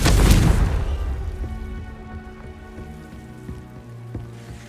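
A Confringo explosive spell in Hogwarts Legacy bursts loudly at the start, then decays into a lingering crackle and a faint, humming resonance with small scattered clicks.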